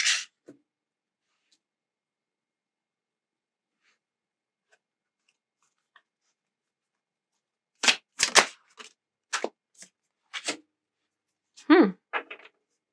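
Tarot cards are drawn and laid out in a spread: after a long near-silent stretch, a few brief, close, crisp shuffles and soft slaps of cards on a surface arrive in quick bursts.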